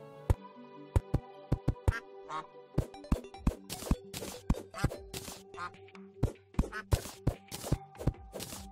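Ducks at a pond in Terraria: repeated short quacks in an irregular rhythm, mixed with sharp percussive thunks and taps over a faint steady musical background.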